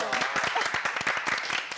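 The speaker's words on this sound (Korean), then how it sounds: "우리 호랑한테 한번 박수" A short burst of clapping from a small group in a Korean matchmaking setting, dense and steady for under two seconds, with a voice briefly heard over it.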